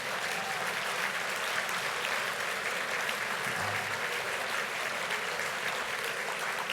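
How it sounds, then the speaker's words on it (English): Sustained applause from a conference dinner audience honoring the event's sponsors, dense steady clapping that holds at an even level from start to finish with no talk over it. "Give them a round of applause."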